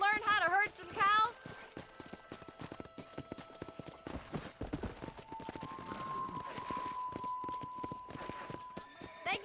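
Horse hooves clip-clopping in the video game Red Dead Redemption, a steady walking rhythm of close hoof beats under ongoing conversation, with a brief whinny near the start.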